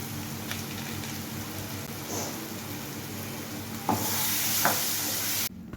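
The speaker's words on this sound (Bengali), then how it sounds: "টমেটোটাকেও এর সাথে মশলার সাথে কষিয়ে নেব" Tomato and spice masala for a spicy egg curry sautéing in a pan: a steady close sizzle and hiss, with a few soft scrapes of stirring and a sudden cut at the end.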